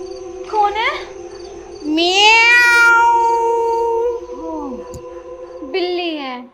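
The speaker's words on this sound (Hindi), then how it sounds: "बिल्ली आएगी यहाँ पे, म्याऊं म्याऊं कर रही है" A cat meows at night inside a village house, several long wavering cries of varying pitch, loud and close over a steady background hum.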